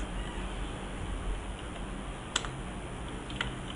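Keys are tapped on a computer keyboard while typing in Microsoft Word, with a few sparse, quiet clicks standing out over a steady background hiss.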